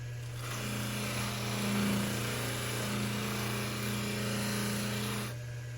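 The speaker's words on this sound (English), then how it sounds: "Now we're gonna get some pumice and polish this out." A dental lathe hums steadily at slow speed while polishing a 3D-printed full arch implant conversion with pumice, a constant close motor drone with a low tonal whine, no voices.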